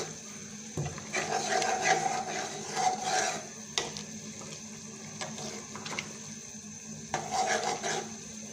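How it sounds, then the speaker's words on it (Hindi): A spoon stirs beaten egg into hot soup in a pot, giving soft intermittent liquid swishes and scrapes in short bursts, fairly quiet and close with no voices. "अब इसको हम हिला देते हैं हल्का सा, ये देखिए मिक्स कर देते हैं इसके अंदर।"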